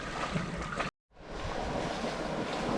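Wind rushes and waves wash steadily around a sailboat at sea, a close, breathy roar broken by a brief dropout before resuming.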